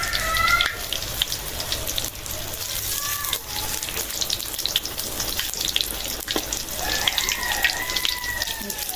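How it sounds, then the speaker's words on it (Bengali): Hot oil sizzles steadily in a pan while pumpkin chops are cooked, a continuous crackling hiss with faint background noise and brief tonal chirps. "তেল হলো ফুটে গেছে"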